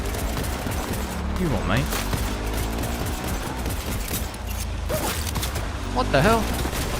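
Gunfire in the video game Cyberpunk 2077, with bursts of shots scattered through a dense game mix while someone talks over it in surprise.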